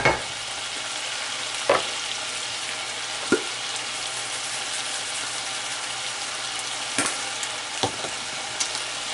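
Teriyaki-style food fries in a pan with a steady, close sizzle, broken by a few sharp clinks and taps of a utensil.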